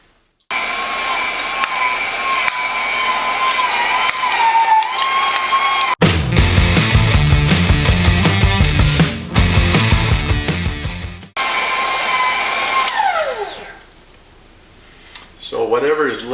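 Electric meat grinder working ham meat through its die, a loud steady motor whine broken by a grinding churning stretch, then winding down and starting again near the end, with no talk over it.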